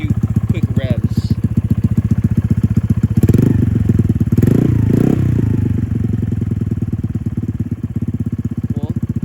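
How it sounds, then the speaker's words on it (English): A Honda Navi with a Yoshimura exhaust idles close by, then revs up in a few quick bursts, loud and throaty, before settling back to a steady idle. "Let's give it a few quick revs."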